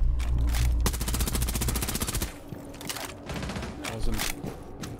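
Rapid automatic gunfire in a Ubisoft shooter video game, long loud bursts of evenly spaced shots up close, followed by a few shorter volleys.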